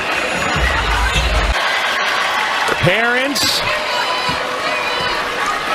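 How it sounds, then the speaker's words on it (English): Crowd noise in an arena during an NCAA women's basketball game, Kentucky against Texas, a broad roar under a commentator's voice, with a few sharp squeaks and whistle-like tones rising partway through. "you heard the crowd absolutely go wild"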